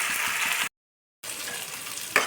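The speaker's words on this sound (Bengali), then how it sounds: "এবার আমি এর মধ্যে নুন আর অল্প হলুদ দিয়ে ভেজে নেব" Raw bottle gourd frying with salt and turmeric sizzles loudly and steadily, broken by a brief silent gap, with a stirring scrape near the end.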